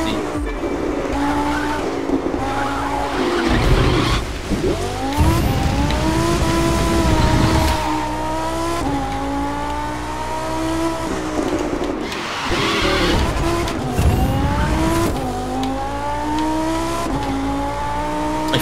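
Race car engine in The Crew 2 video game, loud and continuous with rising and falling revs through gear shifts, tires squealing and skidding through corners over about eighteen seconds.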